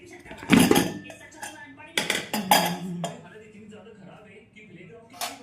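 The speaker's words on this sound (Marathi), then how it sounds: "तर चला कुकर ओपन करूया" Metallic clanks and clatters of a pressure cooker lid being handled as chicken pulao is opened ring out in a few sharp bursts, with quieter rattling and faint talking in between.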